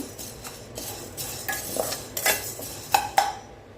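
Metal spoon scraping and clinking against a pan while roasted spices for a pepper thokku premix are stirred, light irregular taps and scrapes fairly close, quiet and without talking.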